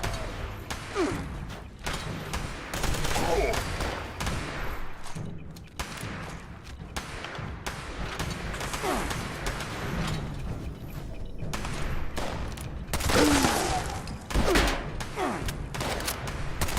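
Gunfire in the video game Fallout 76 comes as repeated bursts of shots and heavy thuds across the stretch, loud and close, with mechanical clicks between volleys.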